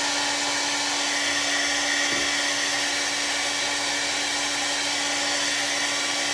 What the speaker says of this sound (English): I blow dried my hair on the cool setting